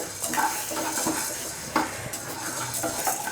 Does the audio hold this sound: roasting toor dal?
yes